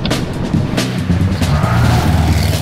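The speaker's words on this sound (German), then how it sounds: "ich fahre einen 1958er Porsche" A 1958 Porsche 356A 1600 Super drives close by, its engine rumbling loud and steady with a harsh, rough texture throughout the short stretch.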